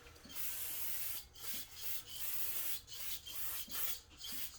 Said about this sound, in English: Let's go ahead and spray this side with the brake parts cleaner.